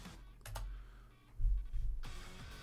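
Keystrokes on a computer keyboard while entering a command-line instruction on Rocky Linux, a short burst of close, quiet clicking taps with brief pauses between them.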